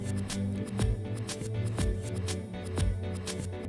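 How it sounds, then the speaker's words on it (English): A Kevlar cutter snipping the Kevlar strength members of a stripped fibre optic cable, a series of sharp, close, crisp clicks and snips in an irregular rhythm with no one talking. "Using a Kevlar cutter, cut the Kevlar strength members."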